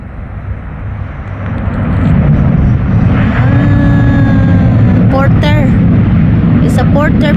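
A small Porter airliner rolls along the runway after landing, its steady jet engine roar loud and continuous with a rising whine, while people chatter nearby over the noise.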